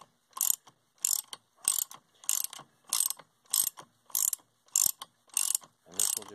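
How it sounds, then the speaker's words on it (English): Ratcheting clicks while a nut is turned down on a penguin engine fan, about ten evenly spaced bursts of sharp metallic clicking, close and fairly loud, separated by short silences. "So I'm just going to gently turn the nut down."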